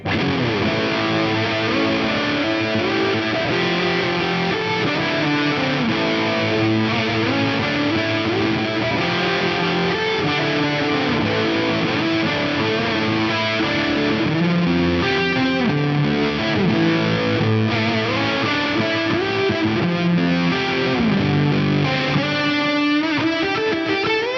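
Distorted electric guitar plays a continuous riff, heavily overdriven through a tube driver pedal, with echoing delay repeats and a wash of reverb trailing each note.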